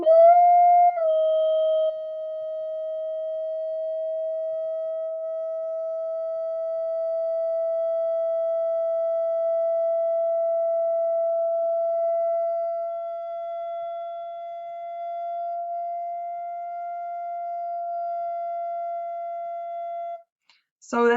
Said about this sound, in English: So let's look for that second most annoying sound around 690 hertz.